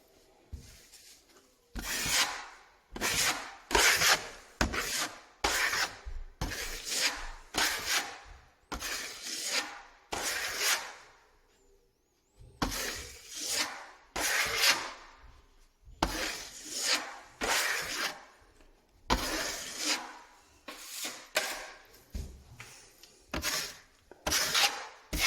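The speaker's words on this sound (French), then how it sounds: "2 secondes, je prépare mon enduit." Wall filler plaster is worked and mixed with a tool to patch a large hole in a wall, giving repeated scraping and rubbing strokes in short bursts with brief pauses between them, fairly close and without talk.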